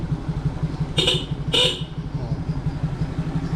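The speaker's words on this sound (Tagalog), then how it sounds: "malakas na rin yung busina" Two short, loud horn honks sound close by, one after the other, over the idling engine of a 2013 carbureted Suzuki Smash 115 motorcycle.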